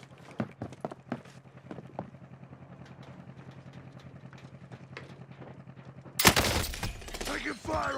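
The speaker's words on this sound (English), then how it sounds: "Taking fire over here!" Rapid gunfire crackles through a Call of Duty Warzone Pacific match on Caldera as a string of sharp shots. A much louder, dense burst of fire erupts near the end.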